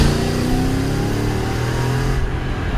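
A Mercedes E55 AMG wagon's engine revs hard and steadily climbing toward about 5,000 RPM, loud and close with a rising tone, then easing off near the end with no talk.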